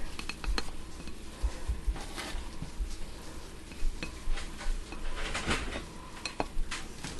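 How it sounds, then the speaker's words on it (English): Cooked seasoned oven-fried potato wedges tumble into a bowl with scattered clinks and scrapes of a utensil against dishware, close and moderately loud. "I'm going to put some in a bowl here."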